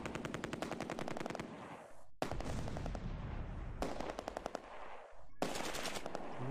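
Gunfire in the video game Close Combat 2: sustained machine-gun bursts of rapid, even shots, cut by short gaps and restarting, loud and dense with no voices.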